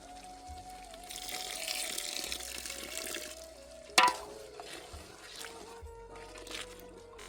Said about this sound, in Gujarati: હવે અંદર ઉમેરશું 2 ગ્લાસ જેટલું પાણી